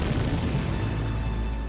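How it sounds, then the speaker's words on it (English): A deep, sustained volcanic explosion roar, a dense low boom that fills the whole moment steadily and loudly, with no voices. "The pressure continues to rise underneath, eventually causing an enormous explosion."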